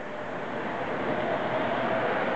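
A model railway subway train rolls through a station on a busy miniature layout, giving a steady, continuous rumble and rush of wheels that swells slightly as it passes without stopping.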